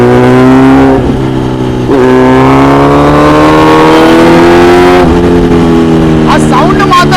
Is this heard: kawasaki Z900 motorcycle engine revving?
yes